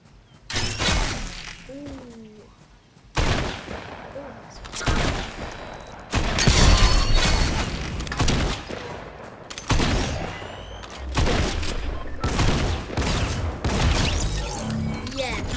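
Gunfire in the video game Fortnite comes in loud repeated bursts and crashing impacts, broken by short quiet gaps, with game effects and possible voice underneath.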